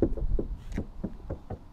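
Knuckles rap repeatedly on the thin sheet-metal body of a Geely Emgrand X7, about eight hollow, tinny knocks in an uneven rhythm, close and fairly loud, with no talking.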